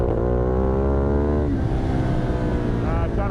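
A Ducati Multistrada motorcycle engine revs hard and close while its rear wheel spins up, a loud sustained roar that dips and then climbs again in pitch.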